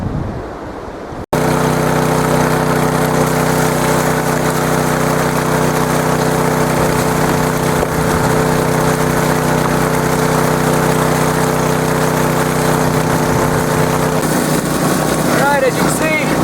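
A dryland dredge motor in the gold fields starts up after a brief quiet moment, then runs steadily as a loud, constant droning engine hum with a faint splashing, rattling texture, continuing alone for the rest of the time.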